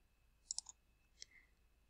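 Keys pressed on a TI-84 graphing calculator, a few faint, sharp plastic clicks in quick succession, then one more after a short pause, in an otherwise quiet room.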